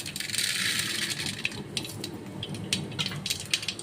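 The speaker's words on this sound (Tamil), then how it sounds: "இந்த கடுகு நல்லா இப்படி பொரிஞ்சு வரும்போது" Mustard seeds crackling and spluttering in hot oil in a pan, small sharp pops scattered over a steady sizzling hiss, close and fairly loud.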